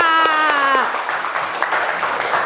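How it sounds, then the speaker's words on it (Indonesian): A class gives applause for everyone during a lesson on a Quranic surah: a voice trails off as a moderate burst of many hands clapping takes over and continues steadily. "Tepuk tangan untuk kita semua."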